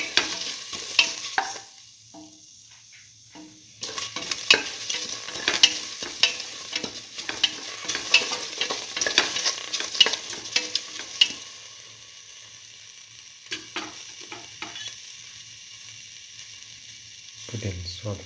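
Tomato pieces and split mung beans are stirred in a frying pan, with repeated scraping strokes and a crackling sizzle through the middle stretch that die down to quieter pauses near the end.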